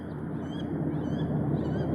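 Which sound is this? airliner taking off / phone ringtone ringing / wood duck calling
wood duck calling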